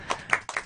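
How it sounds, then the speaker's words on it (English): A few sharp hand claps in a radio studio, three or four quick claps close to the microphone. "giving applause first."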